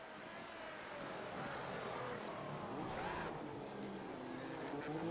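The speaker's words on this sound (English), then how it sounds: "Hard breaking down into the hairpin. You can hear him." In the iRacing game, a race car brakes hard into a hairpin during a Grand Prix, its engine note dropping and rising through downshifts, quiet and distant under commentary.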